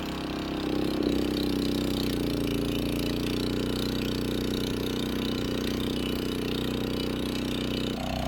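A water pump's engine runs steadily at a constant mid-pitched drone while draining a pond, with a slight shift in tone near the start and end and no talking.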